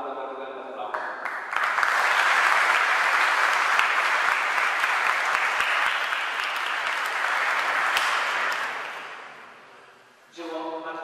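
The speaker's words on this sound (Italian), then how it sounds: "e loro vanno per un grande applauso." Sustained audience applause at a book presentation on Baroque art in a church in Copertino, rising quickly to a full, dense roar, holding steady, then fading out before speech resumes at the end.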